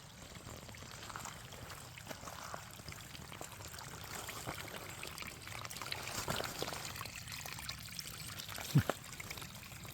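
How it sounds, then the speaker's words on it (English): Soft, steady trickling and burbling of water running continuously over rocks, faint and even, with a brief click near the end. "I just love the sound of trickling water."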